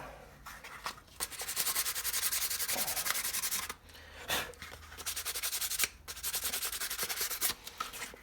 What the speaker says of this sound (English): I'm gonna grab a piece of sandpaper and clean up